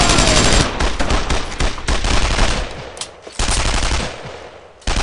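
Heavy covering gunfire in Brothers in Arms: Hell's Highway on Hill 30, with loud, close machine-gun bursts and rifle shots that crackle in dense, overlapping volleys, separated by brief pauses.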